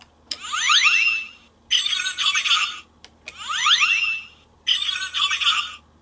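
Tomica Earth Bress transformation toy sounding its electronic effects twice in a row: a rising chirping synth sweep followed by a bright, buzzing burst, each pair repeated with short gaps, loud and close with no talking.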